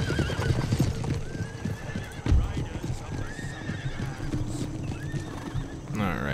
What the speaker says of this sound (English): Let's get our horses to flank around.